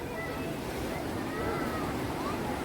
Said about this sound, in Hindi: यहाँ पे ये लहरें बहुत ऊपर ऊपर तक आती है।